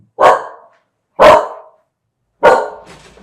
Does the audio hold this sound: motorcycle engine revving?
no